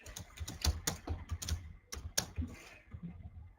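Fingers tap on a computer keyboard while CSS code is written, an irregular burst of close, crisp key clicks with short pauses, quiet overall and without talking.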